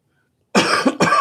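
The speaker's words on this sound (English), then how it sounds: "Sorry, coughed into your mic." A single cough lands right into a close microphone, a loud, harsh burst of two quick explosive bursts after a moment of silence, with no talking.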